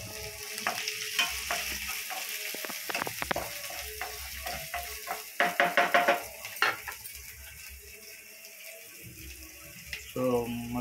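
Chili and onion fry in a pan after garlic, a low sizzle under irregular stirring scrapes and clinks of utensils, with a cluster of sharp knocks midway and a person speaking briefly near the end.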